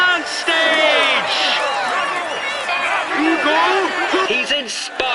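Large roadside crowd cheering and clapping for a Tour de France stage winner, a loud continuous wash of applause and shouts with many overlapping voices throughout.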